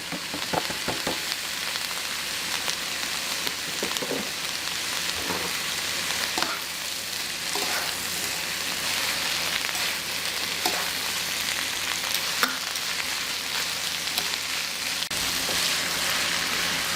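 Celery and red pepper stir-fry for Singapore chow mein rice noodles. A steady, close sizzle runs throughout, broken by occasional scraping stirs and clicks of the utensil against the pan.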